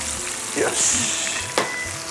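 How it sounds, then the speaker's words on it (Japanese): Onions sautéing in a pan for a soft-shell crab yellow curry, a steady close sizzle and fry hiss with a couple of stirring scrapes, under faint background noise. "玉ねぎまだ炒めてます"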